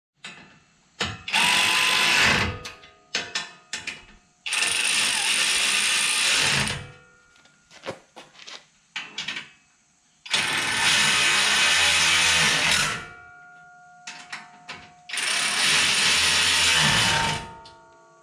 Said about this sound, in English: Even one of these battery ratchets is probably overkill.